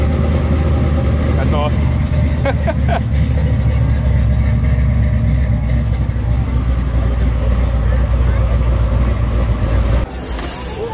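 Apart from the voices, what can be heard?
custom built car engine starting up and idling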